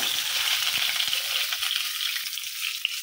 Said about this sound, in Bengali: এখন ডিমগুলা বাইজা নিই, একটু হালকা ভাজা দিয়ে তারপর বোনা করবো।